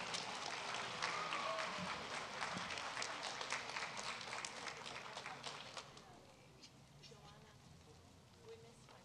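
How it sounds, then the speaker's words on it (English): A school district event audience applauds the Arroyo High School PTSA. Close, dense clapping runs for about six seconds, then thins and fades to scattered claps and quiet room sound. "one more round of applause"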